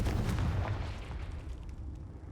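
A blast from the Confringo spell in Hogwarts Legacy: a heavy low boom at the start, then a rumbling decay with faint crackle, fairly loud and with no one talking.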